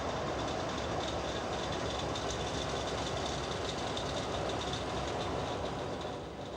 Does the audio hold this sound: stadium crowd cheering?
no